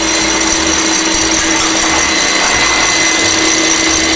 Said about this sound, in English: I'm going to whisk my two white with a touch of salt in a little kitchen area